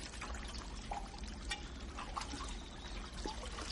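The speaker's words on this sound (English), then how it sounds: "A continuous stream of spring water is piped right into a basin" Spring water runs from a pipe into a basin beside a carp pool at a traditional Japanese satoyama home, a quiet, continuous trickle and splash with small irregular drips.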